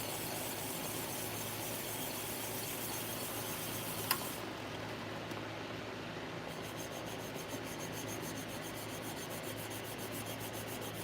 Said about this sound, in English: so I kind of have to like sand evenly just until it comes out